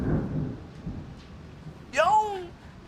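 A low thunder rumble rolls through during a rainstorm outside at night, loudest in the first half second and then fading. Near the end a voice briefly exclaims with a rising and falling pitch.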